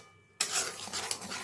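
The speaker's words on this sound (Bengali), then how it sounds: "এখন আমি এর মধ্যে পেঁয়াজ রসুনের পেস্টটা দিয়ে দিচ্ছি। মশলাটাকে এখন আমি কষিয়ে নেব খুব ভালো মতন।" Onion-garlic paste dropped into melted butter for paneer butter masala, bursting into a sudden loud sizzle after a brief quiet moment and continuing as a close, bright frying hiss with a few stirring scrapes.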